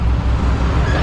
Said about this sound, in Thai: เสียงคอมเอร์ดังครับ